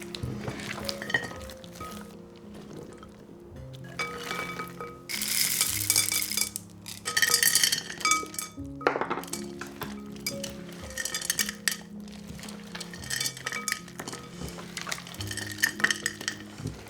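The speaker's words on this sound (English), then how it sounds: "I will add the dried fruit and the nuts and the salt and mix that together" Dough being mixed by hand with soaked dried fruit, nuts and salt during winter baking in a cabin, giving continuous sticky squelching and stirring with occasional light clinks, fairly close and without talk.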